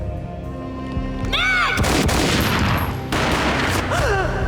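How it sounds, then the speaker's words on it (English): Gunfire and explosive booms in the Max Payne Xbox game, loud and dense with rumbling blasts, whooshing effects and heavy low-end impacts. "A gunshot boomed and she fell down in slow motion."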